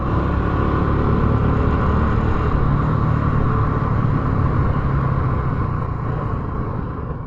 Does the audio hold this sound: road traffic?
yes